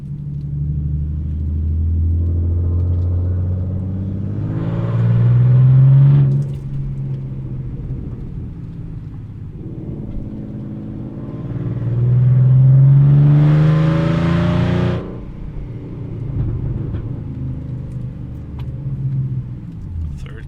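A Mustang 3.7 V6 with Borla ATAK exhaust, shorty headers, H-pipe, cat delete and resonators accelerates in second gear, the engine note climbing loudly in two long pulls with a short easing between them.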